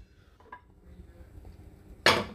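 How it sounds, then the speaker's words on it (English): A plastic lid snaps onto a butter container in a kitchen, a sharp, fairly loud clack near the end after faint handling taps and rustles. "let me put the lid on this butter real quick."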